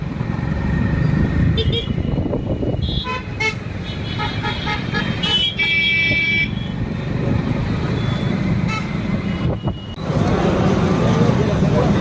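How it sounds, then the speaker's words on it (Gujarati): Busy Sunday road traffic in Surat, with cars and motorcycles passing close by, several horn toots cutting through a steady engine rumble, wind noise and someone talking over it. "રવિવાર છે ને ટ્રાફિક બહુ હોય પાછું"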